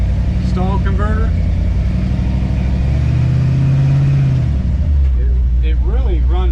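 A small-block Chevy roller-cam truck engine with a TCI transmission idles with a steady low rumble and rises briefly in revs, while someone talks continuously over it.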